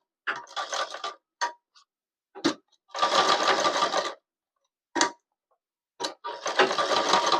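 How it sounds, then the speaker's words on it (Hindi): Sewing machine stitching elastic into a pajama or salwar waistband, running in several short bursts of rapid whirring stitches separated by brief pauses, close and clear with no talk. "यहाँ पर सबसे पहले तो हम सिलाई कर लेते हैं इस तरह से"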